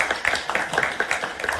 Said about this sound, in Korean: 다 모두에게 박수 치면서 마무리하겠습니다.